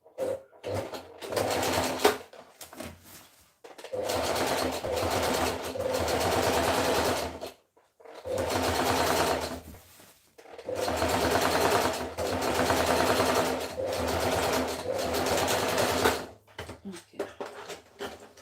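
A sewing machine runs a half-inch seam in several long bursts of steady, close stitching, separated by short pauses and brief handling noises.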